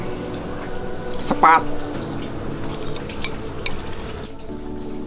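Cutlery scraping and clinking against a plate while stir-fried petai is cut during a meal, a few sharp metallic taps and scrapes close up, with people talking throughout.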